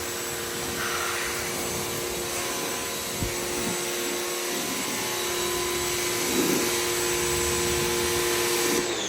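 A Craftsman CMEPW1700 1700 PSI electric pressure washer cleans a truck, giving a steady, loud motor whine with a hissing water jet that holds even for the whole stretch, no talking over it.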